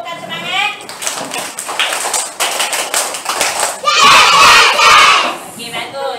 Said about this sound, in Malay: Beri tepukan semangat.